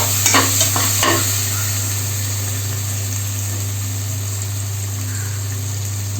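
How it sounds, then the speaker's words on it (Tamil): Sliced onion and tomato with curry leaves frying in sesame oil in a pan, stirred with a few scraping strokes at the start, then a continuous sizzle over a low steady hum. "நல்லா மிக்ஸ் பண்ணிக்கலாம்."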